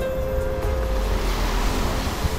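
Sea waves wash onto a white-sand shore near a beach cemetery in Daanbantayan, a steady loud surf roar with wind noise and no pauses.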